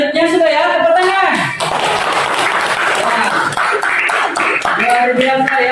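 A school audience bursts into dense, loud applause that fills the middle of the moment, bracketed by a speaker's voice before and after it.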